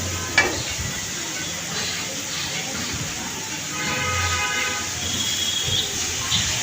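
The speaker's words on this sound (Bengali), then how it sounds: "মশলাটা অবশ্যই ভালো করে কষাতে হবে যাতে নিচে লেগে না যায়।" Spice paste blended with green chilli fries in oil with a steady, close sizzle under continuous talking, with a brief clatter of stirring near the start.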